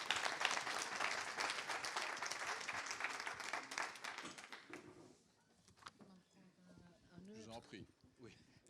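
Audience applause at a French presentation of a white paper: dense clapping from a seated crowd for about five seconds, then fading out and giving way to a voice speaking.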